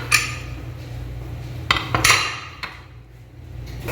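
Metal lid lifted off a pot of simmering mutton curry in yogurt gravy, giving a few sharp clinks and scrapes over a steady low cooking hum.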